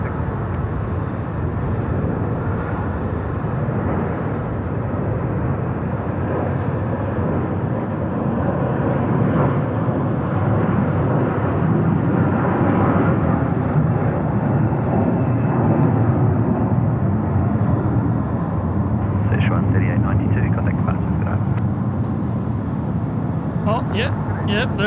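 A Jetstar airliner lands at night at Sydney Airport with a steady, loud roar of engines and rushing air that holds for the whole stretch. Faint voices come through over it.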